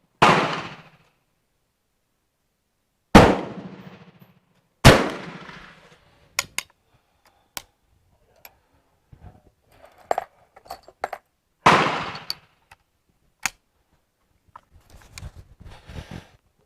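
A Danish-licensed 11.7 mm rolling block rifle firing powder-coated loads at a range, several sharp loud shots spaced seconds apart, each with a short decaying echo, with quieter metallic clicks and handling sounds in between.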